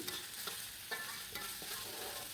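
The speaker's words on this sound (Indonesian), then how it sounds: "Nah, ditumis dulu ya bumbu ini sampai matang, sampai tercium aroma yang wangi." Ground spice paste being sautéed in a pan: a steady, fairly quiet frying sizzle with soft periodic scrapes of stirring every half second or so, no voices.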